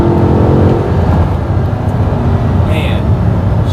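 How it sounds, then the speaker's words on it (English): A 2020 Corvette C8 V8 engine revs under acceleration, a loud, steady, rising roar that fills the clip, with a faint higher tone briefly near the end. "The V8 sounds so good"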